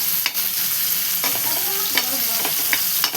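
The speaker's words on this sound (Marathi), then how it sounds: "मी तो टमाटर टाकलेले आहे बघा तेलामध्ये" Tomatoes frying in hot oil for a chilli-garlic thecha, a steady close sizzle with intermittent stirring scrapes and clicks of a spoon against the pan.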